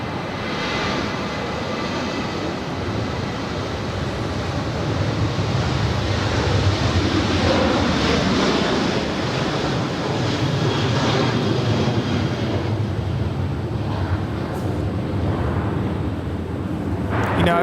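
Jet airliner landing on runway 24 right at Los Angeles International Airport, a loud, continuous engine roar and rushing wind noise held throughout, close and steady, no talk.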